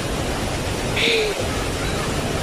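Mahua Waterfall in Tambunan roars as a steady broadband rush of falling water, close and constant, with a brief bird-like chirp and a faint voice riding over it.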